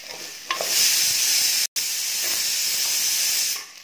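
Pumpkin pieces for sambar sauteing in sesame oil, a steady loud hiss and sizzle close to the pan with faint stirring scrapes, briefly cutting out midway before continuing.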